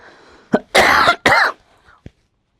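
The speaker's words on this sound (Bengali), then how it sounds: "কাশি বেরিয়ে গেছে" An adult coughs indoors during an online class session: a short cough, then two loud harsh coughs close together, and a faint final cough.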